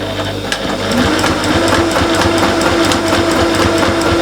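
Sewing machine stitching appliqué leaves onto an autumnal quilt-as-you-go table runner, likely with a closed-toe embroidery foot; a steady, close mechanical whir with rapid needle ticking that runs continuously after a brief start.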